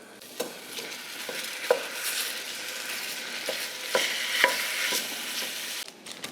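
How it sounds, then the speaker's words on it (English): Ground beef browning in oil in a frying pan, a steady close sizzle with sharp periodic scrapes and clacks of a utensil stirring and breaking up the meat. "While our ground beef is browning"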